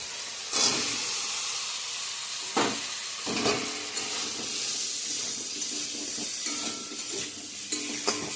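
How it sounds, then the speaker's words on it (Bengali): Potatoes tipped into fried spice paste of coriander and chili powder in hot oil, a steady close sizzle and hiss with scraping stirs and a few sharper splatter bursts. "মশলাটা কষানো হয়ে গেছে তেল ছেড়ে দিয়েছে এখন আলুগুলো দিয়ে দেবো"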